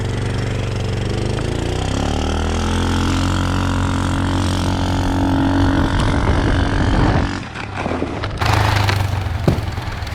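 Dirt bike or vehicle engine revving hard at full throttle before a backyard jump, a loud sustained roar rising in pitch, then cutting off abruptly near the end with brief clatter and wind noise.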